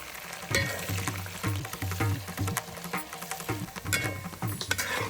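Garlic, ginger, curry leaves and crushed dried red chillies fry in hot oil for a hog plum pickle, giving a close, steady sizzle full of crackling pops and occasional stirring clicks.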